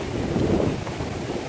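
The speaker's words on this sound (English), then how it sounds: "As we speak, rain is coming at speed, and as you can see, the sea is quite rough" Hurricane Maria's wind and driving rain over a rough sea, a steady roaring rush with gusty buffeting against the microphone.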